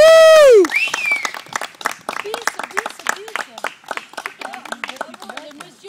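An audience applauds at a wedding ceremony, a dense burst of clapping that thins into scattered, uneven claps, following a short loud tone at the start.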